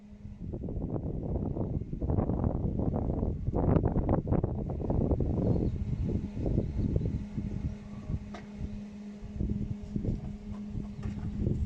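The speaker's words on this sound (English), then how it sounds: "Stinking wind. It's just awful." Gusty wind buffets the microphone in heavy, low rumbling bursts that ease off partway through, leaving a lighter steady outdoor wind bed.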